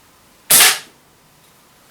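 A BB pistol fires a single sharp crack at a target, loud and close with a quick decay, then near silence with a faint tick afterward.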